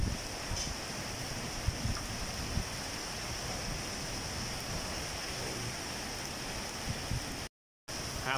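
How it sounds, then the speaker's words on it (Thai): Strong wind gusting hard across an open outdoor area during a storm, a steady broadband roar with rough buffeting against the microphone that continues almost without a break throughout. "โอ้ดูอย่างแรงลมก็อย่างแรงนุ่น"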